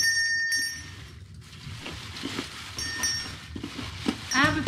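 An old antique bell, apparently cracked and wobbly, rings with a bright metallic chime near the end, amid rummaging clatter and people talking in a storage locker.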